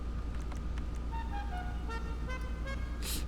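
A car horn in the video game GTA 5 gives a series of short toots over steady engine and road noise, followed by a sudden burst of noise at the end.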